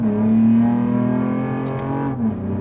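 A Lexus ES 350 with a V6 engine and lowered air suspension revs loudly and pulls away, its engine note rising and holding strong before easing off near the end; no talk.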